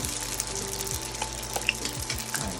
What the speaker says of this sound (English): Shrimp wontons, fried